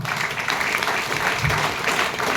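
Big audience applause at a Tamil public talk, a dense, steady wash of many hands clapping that holds at full level the whole way through.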